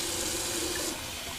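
Hot tap water runs into a sink while a Timeless shaving bowl is rinsed, a close, steady rushing splash that lasts throughout.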